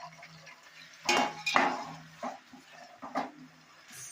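Potatoes tumble into a hot pan of tomatoes in a home kitchen, making a couple of clattering, sizzling bursts followed by lighter scraping and clinks of a utensil against the pan, close and moderately loud.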